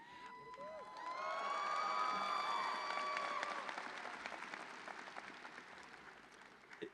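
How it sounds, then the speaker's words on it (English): A crowd at a University of Illinois Urbana-Champaign doctoral hooding ceremony breaks into loud applause with cheering and a sustained whistle, swelling quickly, then gradually thinning out toward the end. "If you applaud after every sentence, we'll be here till midnight"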